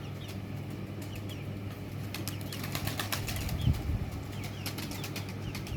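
A pigeon takes off with a burst of flapping wings, a flurry of sharp wingbeats over faint background noise, moderately close and without talk.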